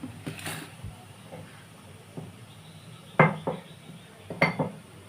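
Spoon clinking against a cooking pot while salt and sugar go into mango dal: a few sharp metallic taps and scrapes, scattered and fairly close, with two clearer clinks near the end.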